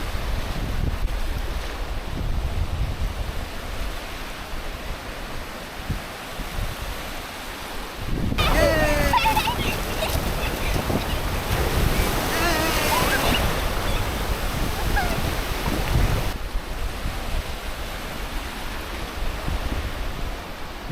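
Sea waves on the beach at Mousuni Island, a broad steady wash of surf mixed with wind buffeting the microphone, swelling noticeably louder through the middle before settling back.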